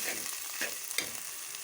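Masala with salt, red chili powder and turmeric frying in a pot for mutton curry, a soft steady sizzle with a few light stirring scrapes over a brief moment.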